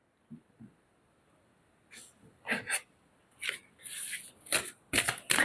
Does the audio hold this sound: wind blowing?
no